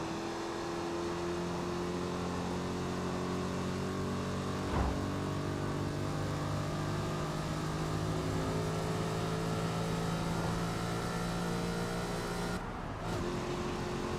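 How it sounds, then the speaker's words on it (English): A car with a 5.8-litre overhead-valve push rod engine revving hard in the Forza Motorsport racing game, a loud, steady, harmonic engine drone held at high revs through a long pull, with a short dip near the end and no voices. "Still an overhead valve push rod engine."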